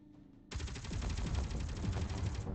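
Sustained automatic machine gun fire in a video game, a loud, steady rapid stream of shots that starts abruptly and continues for about two seconds with no talking.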